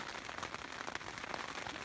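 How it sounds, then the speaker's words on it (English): Light rain patters steadily on an open mountain slope in the Idaho wilderness, a soft continuous hiss of small drops close by with no voices. "Raindrops."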